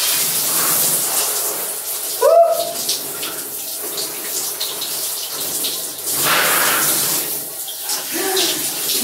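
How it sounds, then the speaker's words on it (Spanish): Cold shower water runs as a steady, close hiss of spray, with a few brief knocks and faint background sounds. "Hoy toca ducha fría, a ver si me espabilo un poco,"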